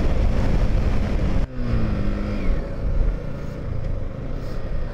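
A motorcycle ridden on a winding hill road between hills, its engine a loud, steady roar under heavy wind rush, with a brief dip and gear-shift whine partway through, recorded close on the moving bike.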